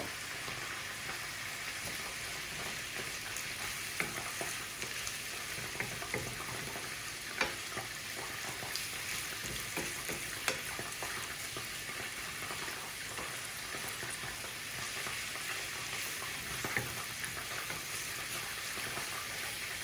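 Butter melting in a pan while making Louisiana-style creamy chicken fettuccine gives a quiet, even sizzle that holds steady for about twenty seconds, with a few faint pops and ticks and no talking.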